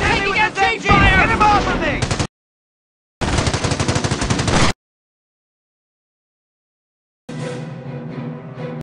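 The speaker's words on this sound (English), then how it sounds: "Taking automatic fire! MG, ready!" Machine gun fire in Company of Heroes during a wartime assault on Carentan comes in three loud, rapid bursts separated by stretches of silence, with voiced orders overlapping the first burst.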